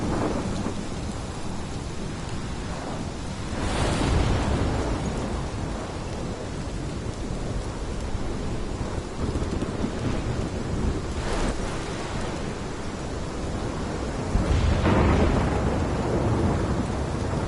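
A thunderstorm in the video game Life is Strange: steady heavy rain hisses throughout while rolling thunder swells in several loud rumbles, with no voices.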